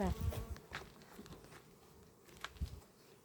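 Honeybees flying around hives at an apiary in hot summer weather: faint, scattered buzzing of insects passing close by, with a quiet outdoor background.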